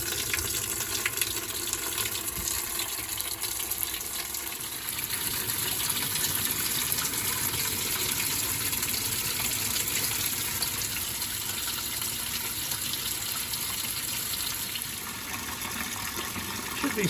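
Water gushes steadily and loudly from a washing machine tap hookup in a workshop, a continuous close rushing flow with no other sounds.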